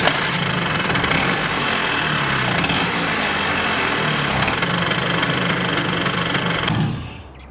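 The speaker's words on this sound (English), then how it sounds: "I'm gonna be quiet so you guys can hear the engine sound." Steady engine drone of a Riberi RS100 vehicle in the Farming Simulator game, running continuously at an even pitch and loudness before cutting off abruptly near the end, with no voices over it.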